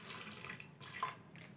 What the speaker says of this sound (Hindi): हम उतना पानी इसमें शामिल कर देंगे जिससे ये अच्छे तरीके से गल जाए